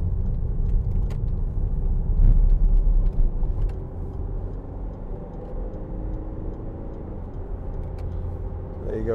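A 2013 Range Rover Evoque SD4 diesel with automatic gearbox accelerates on the road, a steady low engine rumble and road noise swelling slightly then settling, heard from inside the cabin.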